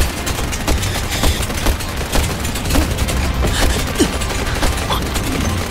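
Gunfire in a Chinese adventure drama action scene, with a dense, continuous volley of rapid shots and booms that stay loud and close throughout, with no talking.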